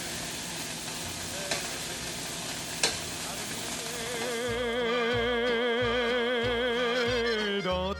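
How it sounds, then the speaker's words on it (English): Pork tenderloin medallions sizzle steadily in a hot pan, a constant frying hiss with a couple of sharp utensil clinks as pieces are lifted out, while background music comes in partway through. "it's time to take our pork tenderloin medallions out of the pan here"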